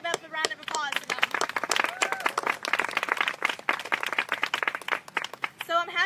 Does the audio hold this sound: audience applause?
yes